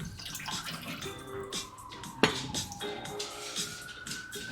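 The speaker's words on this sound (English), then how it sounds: "then you turn the water down a little low. And we're just gonna kind of let it fill up." Tap water runs steadily into a pot being filled for rice in a home kitchen, a continuous splashing stream with one sharp clink partway through and no talking.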